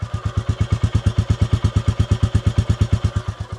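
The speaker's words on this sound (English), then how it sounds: "Let's start the bike and just listen to this." A Royal Enfield Classic 350 single-cylinder motorcycle idles close by with a loud, even thump-thump beat, its regular pulses repeating steadily throughout.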